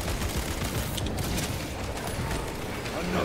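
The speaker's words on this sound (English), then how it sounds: "Oh, now I see why they wanted me to use the assault rifle." Assault rifle fire in Warhammer 40,000: Space Marine 2, a dense, continuous barrage of rapid shots and impacts, loud and sustained throughout with battle noise layered over it.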